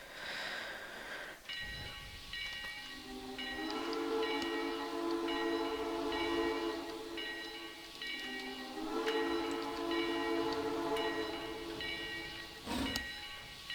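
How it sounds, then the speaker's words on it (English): A heavy 2-10-2 steam locomotive pulling a long, heavy train starts off in the Trainz video game, with repeated layered whistle tones, loud and sustained, over rumbling engine noise and a sharp clank near the end. "Oh, there we go. I've got some wheel slip."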